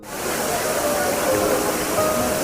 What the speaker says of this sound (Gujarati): અત્યારે ધોધ પડે છે ભયંકર